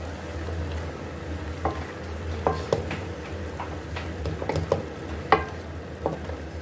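A spoon scrapes and clinks in a pot while crushed coriander, cumin and garam masala are mixed into beef handi, with scattered sharp taps over a low sizzling hiss, fairly quiet and without talk.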